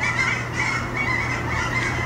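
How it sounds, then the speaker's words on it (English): Geese honking somewhere nearby outdoors, a steady chorus of overlapping nasal calls held under a constant background hum, moderately loud and continuous, with no voices. "Yeah, there's geese."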